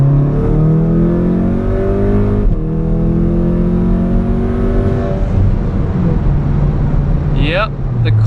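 A Stage 2 tuned Volkswagen Golf R accelerates hard, its engine note climbing through the gears with a brief dip at a shift, loud and close throughout, ending with a quick rising whine.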